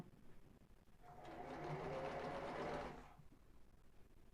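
A sewing machine sews the side seam of a ribbed knit tank top, inside out with right sides together: a quiet background hush, then about two seconds of close, steady motor whir that fades out, with no talking.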